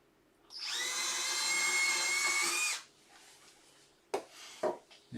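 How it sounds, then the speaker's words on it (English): A power drill whines steadily for about two seconds while starting a screw hole in wood for a dovetailed bedside cabinet, then stops, followed by a few short knocks and scrapes. "Now all I'm doing is starting the hole for the screw."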